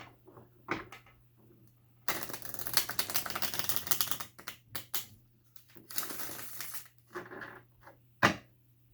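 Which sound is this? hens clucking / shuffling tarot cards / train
shuffling tarot cards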